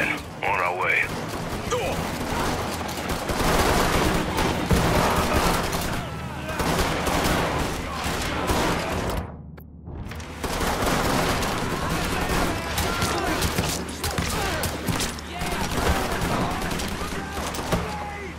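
Mafia III: Definitive Edition gunfight, with dense bursts of rapid automatic gunfire and loud shots crackling almost without pause, cut by one brief silence. Voices talk over the shooting.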